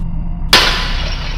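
A window pane shatters suddenly, one sharp crash of breaking glass followed by brief scattering debris over a low steady background rumble.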